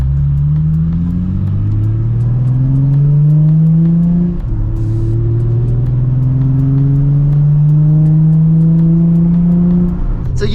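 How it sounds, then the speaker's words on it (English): A Nissan 350Z heard from inside while driving, its engine droning loudly and rising in pitch through two long accelerating pulls with a gear change between them. "All right, so we're off. We're in the 350Z."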